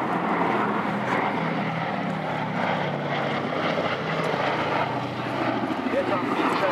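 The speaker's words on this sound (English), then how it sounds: "Here we see the B-17's bomb doors opening for this pass." A Boeing B-17 Flying Fortress, Sally B, flies a pass at an airshow with its bomb doors open, giving a steady, loud multi-engine propeller drone that holds throughout under a commentator's voice.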